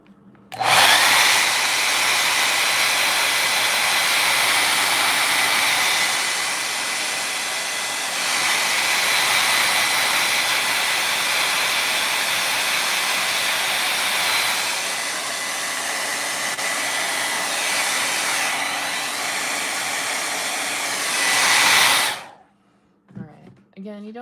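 Hair dryer blowing steadily on wet paint of a forest scene painting, a loud close continuous whooshing roar lasting about twenty seconds that wavers slightly and then cuts off.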